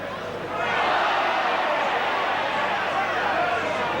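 A rugby league crowd at a 1986 Hull KR versus Australia match reacts to a penalty against Australia. The roar swells quickly into a loud, sustained wall of voices that holds steady.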